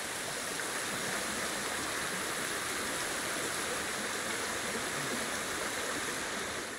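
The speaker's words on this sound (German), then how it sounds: "Zu guter Letzt kannst du auf dieser Markierung einen Wasserfall finden" Waterfall in the video game Ghost of Tsushima, a dense steady roar of falling water, loud and unbroken throughout with no talk over it.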